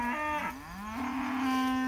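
Cattle on a farm bawling loudly at sundown, two long drawn-out moos close by, one after the other, with no talk.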